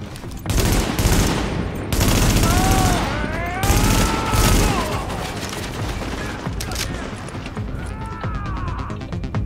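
Bursts of automatic gunfire and rapid shots in The Division, loud and close, broken by brief gaps, with voices talking between the volleys.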